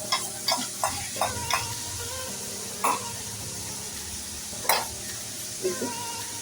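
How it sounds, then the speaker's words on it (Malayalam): Sautéing onion with crushed ginger in a pan for a beef stir-fry: a low frying hiss punctuated by a series of crisp spatula taps and scrapes, a few in quick succession at the start, no speech. "സവാള നല്ല വഴറ്റി വന്നിട്ടുണ്ട്. നമുക്കിതിൽ ചതച്ച് വെച്ച് ഇഞ്ചി ചേർക്കാം."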